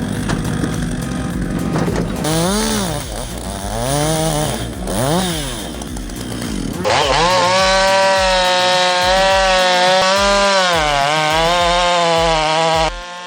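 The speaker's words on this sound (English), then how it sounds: "Anyone saying old saws are slow ain't seen this ported MS660 eat." A ported Stihl MS660 chainsaw cuts into a big oak, its engine revving and bogging in rising and falling surges before holding a loud, steady high-pitched scream under load, close and continuous throughout.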